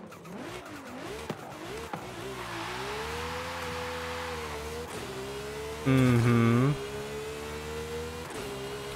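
A Lamborghini Sesto Elemento in Forza Horizon 5 revs and accelerates through rising and falling engine tones, with a louder surge of revving partway through and a brief murmur of speech.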